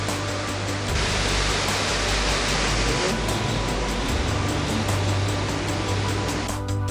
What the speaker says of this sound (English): At this phase, the waterfalls is rolling down over some huge stone steps.